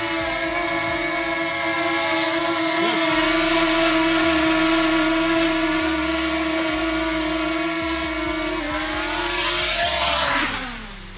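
A DJI Mini 2 drone, just repaired after a crash, runs its motors in a steady, loud, close whine of layered tones that holds evenly and then winds down near the end.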